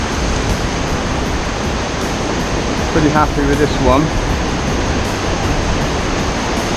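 Steady broadband wash of surf at a river mouth on a Central American shore, loud and continuous throughout, with someone speaking briefly over it in the middle.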